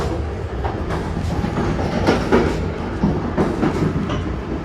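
A passenger train rolls along the rails with a steady low rumble and rhythmic clickety-clack of wheels over joints, loud and close, with no talk.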